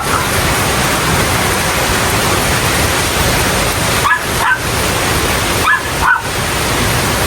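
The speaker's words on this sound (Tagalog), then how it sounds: "Sobrang lakas ng hangin, lakas ng ulan." Strong typhoon wind and heavy rain, a loud continuous broadband roar with no letup, a few brief high yips or squeaks cutting through twice near the end.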